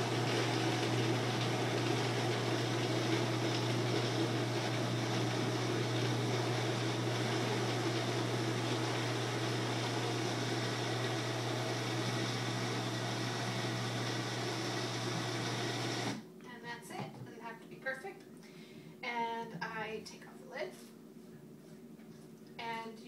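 A non-Vitamix blender grinding dates, running with a steady loud motor whine for about sixteen seconds before cutting off abruptly, followed by quieter handling noises and someone talking.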